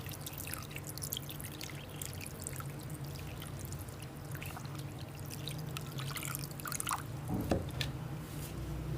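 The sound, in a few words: pouring plain water over strained chhena for rasgulla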